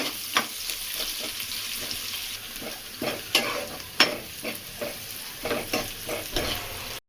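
Onions fry and sizzle in sesame oil for a crab gravy while a spoon stirs them, giving repeated scraping strokes over a steady crackling hiss.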